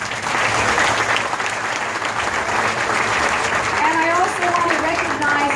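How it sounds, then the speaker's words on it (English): A crowd at a district office grand opening breaks into loud applause for a firefighter, continuous clapping with voices and cheers mixed in underneath, a few raised tones near the end. "So he deserves a round of applause."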